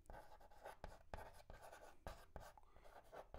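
Pen or chalk writes out a physics definition on a board in a steady stream of quick scratchy strokes with short pauses between words, close and fairly faint, with no voice over it.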